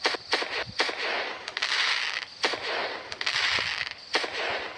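Fireworks go off in rapid succession, with sharp repeated bangs and dense crackling bursts filling the air at moderate distance, without a pause.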